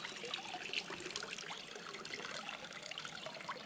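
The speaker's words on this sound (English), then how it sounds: "slowly pull it up and let it drain that water." Water draining out of an Aiper cordless pool robot vacuum as it is lifted from a pool, a steady close trickle and splatter heard alone.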